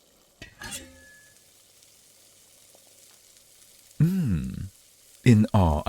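Food frying and being stirred in a home kitchen late at night: a faint sizzle runs underneath, broken by brief, louder bursts of stirring and clattering near the end, with occasional short tonal sounds.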